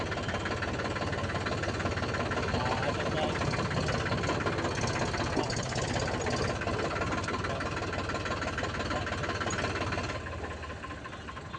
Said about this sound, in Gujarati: અને જો આ ટ્રેક્ટર